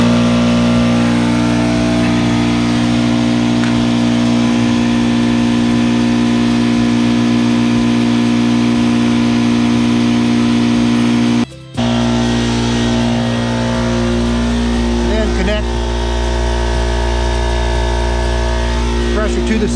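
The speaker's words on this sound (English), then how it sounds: "turn the compressor on and run it up to about at least 50" An air compressor runs to pressurize a home sprinkler system during winterizing, giving a loud, steady, close mechanical drone with a strong hum that cuts out for an instant midway and then carries on.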